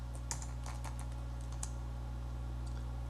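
Typing on a computer keyboard, heard as quiet close clicks in a quick irregular run over the first couple of seconds, then a few more keystrokes, all over a steady low electrical hum.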